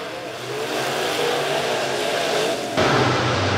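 Dirt late model race cars at a speedway heat race roar as the field accelerates at the green flag, engines building in a loud, dense mid-range growl that surges higher near the end.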